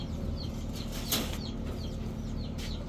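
Club-tagged Narayanganj pigeons, giribaj fancy breeds, flap their wings in a short, fluttering burst near the middle, with soft chirps and a low background hum around it.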